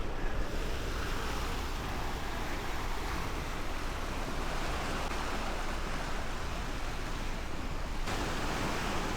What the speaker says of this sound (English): That explains the splashing.